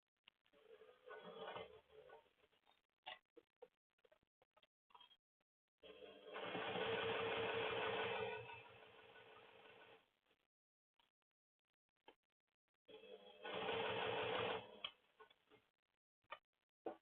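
A sewing machine runs in bursts while stitching a leather tote bag, two longer spells of steady mechanical whirring separated by quiet pauses and small ticks and clicks.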